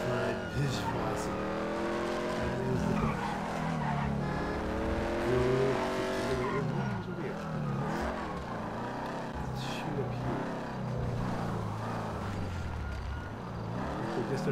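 A car drives off in the video game GTA 5 Online, its engine revving and accelerating with changing pitch and some tire squeal, under continuous talk.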